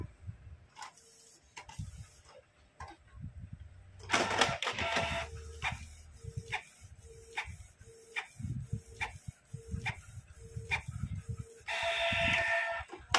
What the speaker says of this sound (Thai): หลังจากเครื่องล้างหัวพิมพ์เสร็จแล้วเดี๋ยวเราลุ้นไปพร้อมกันนะครับว่ามันจะใช้ได้ไหมนะครับ